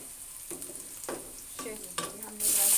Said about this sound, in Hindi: अब ज़रा सी लहसुन को थोड़ा सा सौते कर लेते हैं